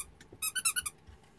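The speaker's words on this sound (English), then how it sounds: "Go see if you can make it squeak." A dog's rubber squeaky toy gives a quick run of five bright, close squeaks in a row, with quiet room sound before and after.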